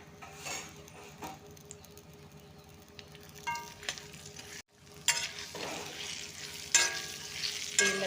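Dates sauté in ghee for a date laddu, crackling and sizzling up close, with spoon scrapes and clinks against the pan in uneven bursts.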